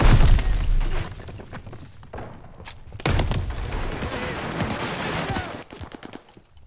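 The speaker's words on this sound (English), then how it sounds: "Tossing grenade." Grenade blast and gunfire in the shooter game Call of Duty: Vanguard, a loud boom up front followed by a second burst and a dense run of shots and crackling debris that fades toward the end.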